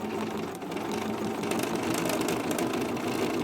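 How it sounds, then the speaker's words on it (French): Sewing machine running steadily while stitching plaid fabric for a sofa pocket and cushion cover, a continuous close motor whir and needle chatter throughout with no talk. "je positionne ma machine et je vais coudre"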